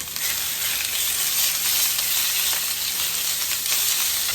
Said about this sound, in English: Now we will throw in our meat. And remember, we're just looking for a quick sear.